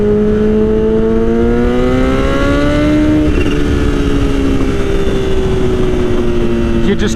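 A motorcycle engine is revved with the throttle, a steady loud drone whose pitch climbs for a few seconds and then settles lower as it holds on continuously, close by.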